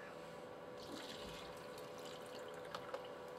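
Tap water is poured into a glass, a faint, steady trickle and splash with a few small drips near the end.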